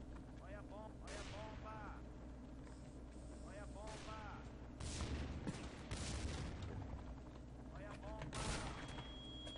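Rapid gunfire bursts from Counter-Strike Online on the Dust 2 map crackle through most of the stretch, growing louder in the middle and near the end, over a steady low game background.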